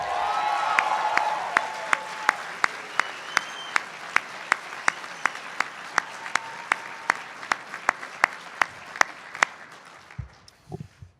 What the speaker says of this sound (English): maybe a preliminary cheer for the moms who are with us as well